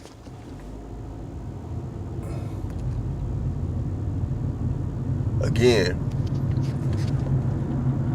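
A car approaching and passing by outside, a low rumble swelling gradually and peaking near the end, faint and distant beneath a man's speech.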